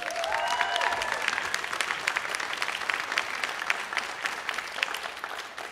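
A comedy night crowd claps for a young comedian, a moderate burst of applause with distinct individual claps that gradually thins out over a few seconds.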